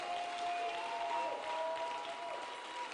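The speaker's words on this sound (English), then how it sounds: "Begin to applaud the Lord again for answers to your prayers." Congregation applauding during a night prayer service for Nigeria, a faint, steady patter of clapping with a few thin tonal tones drifting through it.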